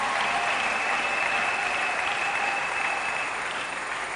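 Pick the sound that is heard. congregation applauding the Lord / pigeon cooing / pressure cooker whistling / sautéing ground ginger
congregation applauding the Lord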